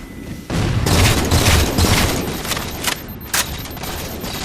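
Gunfire in Halo 4 during a competitive match, a continuous loud barrage of overlapping shots and blasts with a few sharper bursts near the end, no talk.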